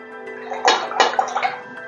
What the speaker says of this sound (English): Just going to drop in water.